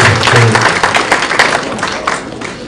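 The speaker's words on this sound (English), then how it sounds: "Another round of applause for Father Abu." Audience applause at a conference, a burst of clapping that tapers off over a couple of seconds, with some voices underneath.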